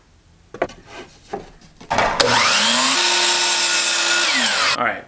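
A power tool whines up to a loud, sustained cut through a small piece of material for a homemade monopod, after a few knocks and handling sounds.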